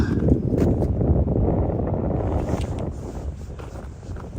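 Cold wind buffets the microphone outdoors in a steady, rushing roar with low gusty rumble that eases slightly toward the end.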